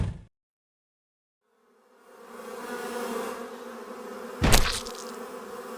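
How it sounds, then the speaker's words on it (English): Bees in a video game set in a desert wasteland produce a droning, buzzing hum that swells in after a brief silence and holds steady, with a sharp impact sound partway through. "We're gonna punch the bees."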